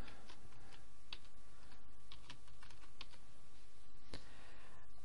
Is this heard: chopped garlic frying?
no